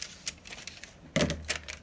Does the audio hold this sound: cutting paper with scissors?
yes